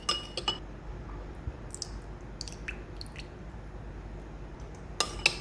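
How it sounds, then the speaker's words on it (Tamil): A spoon mixes soy sauce, oyster sauce and water in a small bowl, with faint scattered clinks of metal against the dish over a quiet background. "இப்போ இதில் வந்து கொஞ்சம் தண்ணி ஊற்றி மிக்ஸ் பண்ணிக்கலாம்."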